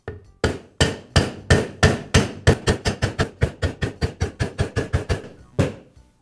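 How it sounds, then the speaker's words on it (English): A hammer taps a socket on a Milwaukee drill gear case casting to seat the bearing, about twenty sharp metallic knocks close up, slow at first, then quickening into an even run. "I'll use a socket that fits over the shoulder on the casting,"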